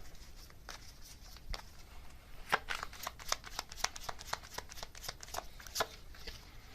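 Message cards are shuffled by hand in a steady run of crisp riffling flicks and snaps, close and alone with no talking.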